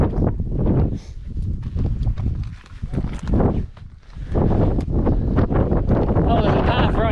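Wind buffets the microphone in rough, continuous gusts on Bodmin Moor in Cornwall, with rustling and scuffing underneath and a loud, blustery rush throughout.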